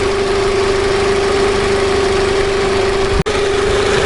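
A 2002 Nissan Altima engine, just repaired, idles smoothly and evenly with a steady low hum, recorded up close and without talk. The sound breaks off for a moment near the end.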